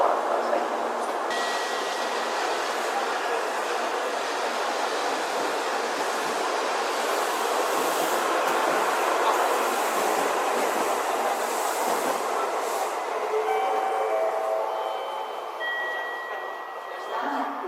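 A Tokaido Shinkansen train pulling into Nagoya station, a loud sustained rushing roar with rolling wheel noise and faint high squeals as it slows, and a station announcement voice partly audible.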